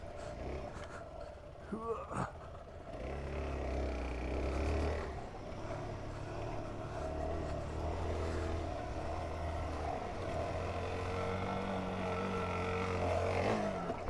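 An adventure motorcycle's engine roars under a sudden, accidental full twist of the throttle while jumping a double on a training track, a rough rising drone that rumbles on for several seconds amid wind noise.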